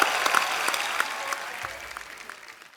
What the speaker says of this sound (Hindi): मेरे दोस्त के लिए जोरदार तालियां पहले तो।